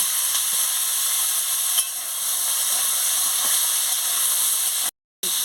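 Potatoes and carrots fry in oil in a wok, giving a steady, even hiss of sizzling that stays close and constant, with a brief dropout near the end.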